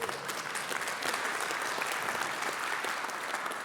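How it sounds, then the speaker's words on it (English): An audience at a church leadership conference applauds with dense, sustained clapping that holds at an even level from start to finish. "And friends, you can clap for that."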